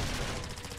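Rapid gunfire from teammates crackles in Modern Warfare 3, a fast dense burst of shots that is fairly faint and brief, with no talk over it.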